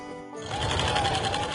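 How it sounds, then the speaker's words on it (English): A sewing machine starts and runs steadily with a fast, even mechanical whir, close by. "I just like coming home and sewing."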